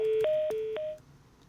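Electronic telephone line tones on a live broadcast call that has just dropped: three short alternating two-pitch beeps, moderately loud and evenly spaced, followed by quiet line hiss.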